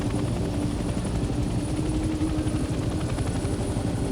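Helicopter descending in Hell Let Loose Vietnam as the pilot lowers the collective for a J-hook landing: a steady, loud rotor thump with dense rhythmic chopping and engine drone throughout, no talk.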